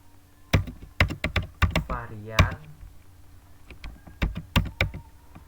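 Someone typing an SQL command on a computer keyboard, crisp close clicks in irregular bursts with a brief whirring in the middle, alone without talking.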